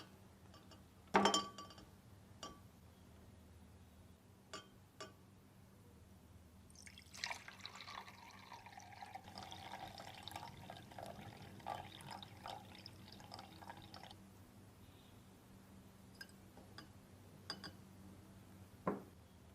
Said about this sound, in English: I'm going to go ahead and tilt this larger beaker so that the displaced water goes into the smaller beaker